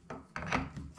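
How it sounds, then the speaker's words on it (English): Metal tube being screwed onto an FX Maverick air rifle, a few short close scraping, rasping turns with brief pauses between them. "Screwing on the tube."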